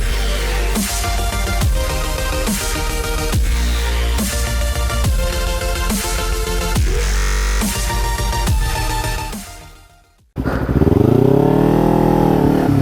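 A motorcycle engine revs loudly in repeated bursts of acceleration while riding in snow, cuts out briefly, then returns with a lower, rising drone.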